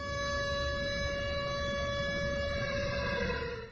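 Air raid siren carried over a hijacked local radio broadcast, a steady sustained wail with stacked harmonic tones holding level and loud for the whole stretch, with no voices.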